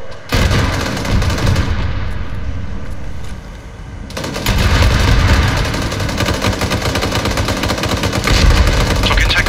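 Dense military gunfire and heavy explosions roar through a night battle in Arma 3, loud sustained volleys with booming impacts continuing almost throughout, a brief easing midway before the firing swells again.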